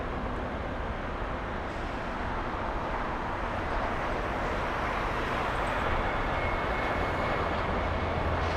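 A China Cargo Airlines plane taxis off runway 25L at LAX, its jet engines giving a steady, distant broadband roar and hum that holds evenly throughout, with no talk.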